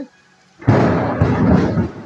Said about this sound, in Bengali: মেঘ ডাকলো, শুনতে পেলেন কত জোরে মেঘ ডাকছিল।